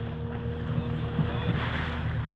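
A rented motorboat runs along the sea coast near Cala Gonone in the Gulf of Orosei, Sardinia, heading for a beach. Its engine hums in a steady close drone mixed with wind buffeting, then cuts off abruptly.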